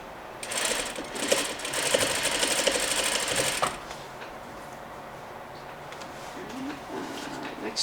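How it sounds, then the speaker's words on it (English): A sewing machine stitches a seam on a Parsons chair slipcover, a loud steady buzzing run of needle strokes lasting about three seconds before stopping, leaving quieter room noise with small handling sounds. "I'm just going to stitch from this corner to this corner"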